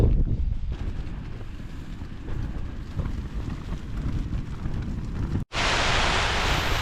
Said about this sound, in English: with how much wind there is right now, that was not easy to set up that tent.